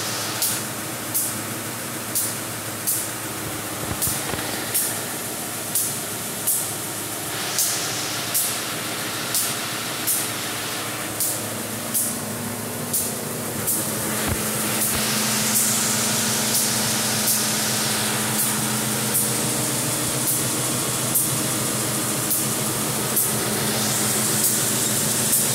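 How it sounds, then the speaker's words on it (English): A Cemco industrial metal sander releases air for its belt tracking in sharp, evenly spaced hisses about once a second, over a constant machine drone that turns into a steadier, louder rush midway. "You can hear the air release for the tracking."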